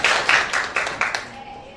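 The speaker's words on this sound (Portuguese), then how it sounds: "palmas, por favor, para os nossos conferencistas." A conference audience gives a short burst of applause for the speakers, a few rhythmic claps fading quickly, fairly faint.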